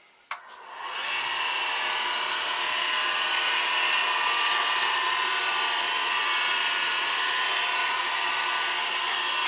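A wood lathe spins a turned wooden box, starting with a brief knock and then settling into a steady, even whirring hum that runs unbroken to the end with no talking.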